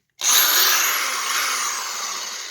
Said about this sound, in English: Got a good working Skil drill here now.